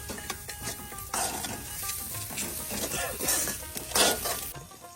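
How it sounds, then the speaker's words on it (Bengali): Onions and chilies sizzle and fry in a pan during outdoor cooking at a fishermen's home in Bangladesh, with steady hissing and repeated stirring scrapes and clinks, close and fairly loud throughout. "পেঁয়াজ মরিচ ভাজা শেষ"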